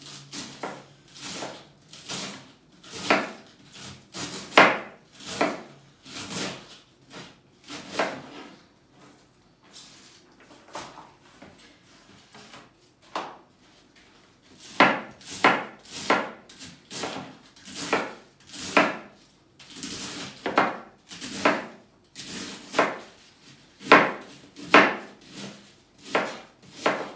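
A knife chops cabbage for pickling on a wooden board, with sharp, steady repeated strokes in several bursts and a quieter stretch in the middle, close and clear with no talking.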